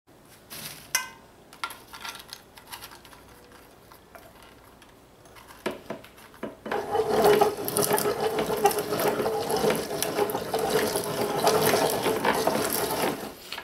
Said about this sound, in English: Using your hand mill or your food processor, you're going to grind your pieces of fried flour into a very fine powder.